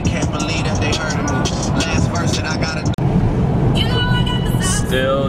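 Car cruising on a long highway road trip, a constant loud engine and road rumble filling the cabin, with a person talking over it throughout.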